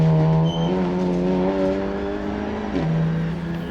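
A 350 bhp Audi RS3 TCR race car or a 460 bhp Cupra Leon time-attack car screams along a track, its loud, steady engine note holding high, then dipping briefly as it shifts gear and climbs again.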